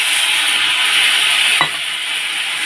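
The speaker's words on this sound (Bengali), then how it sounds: "ঢাকনাটা খুলে একটু নাড়াচাড়া করে দিই" Bottle gourd (lau) fries in a pan with a loud, steady sizzle close by, broken once by a short scrape of a spatula stirring the pieces.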